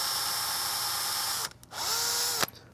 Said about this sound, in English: See if I can drill that out to the bigger hole without, again, exploding it